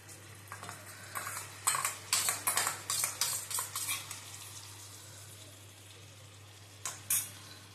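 Beaten yogurt being stirred into chicken in a pot for doi chicken, a run of close scraping and clinking spoon strokes against the metal pot, one after another, then a pause and a final pair of stirs, with no talk.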